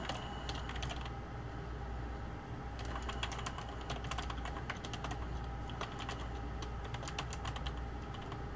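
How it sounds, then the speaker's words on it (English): Steady, fast typing on a computer keyboard, close and continuous with dense irregular key clatter throughout and no talking. "I have to actually do some typing for this."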